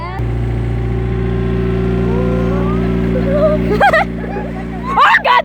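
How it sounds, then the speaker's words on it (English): An ATV engine holds a steady, loud mid-pitched drone throughout a ride, with voices calling out over it near the end. "This is unlike any ATV ride I've ever taken."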